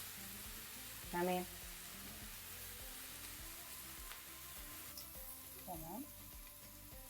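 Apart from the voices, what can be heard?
steak frying and sizzling in a pan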